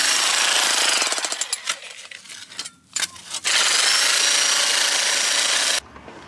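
A Hilti rotary hammer breaks into a stone wall with loud, continuous rattling hammering, briefly easing and stuttering midway before resuming at full force and cutting off abruptly near the end.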